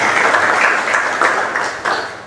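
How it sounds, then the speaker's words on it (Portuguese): A crowd applauds at a political party directorate inauguration in Jaguaripe, Brazil, honoring a samba de roda group, with dense, steady clapping that swells in waves throughout. "que eu quero pedir nesse momento a salva de palmas"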